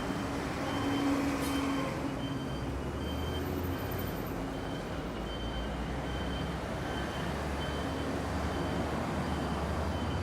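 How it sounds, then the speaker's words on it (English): Steady street traffic in Taipei, Taiwan rumbles throughout, with a repeating electronic beep cutting through the noise at intervals. "this incessant beeping"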